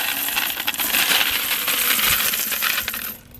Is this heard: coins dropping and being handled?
yes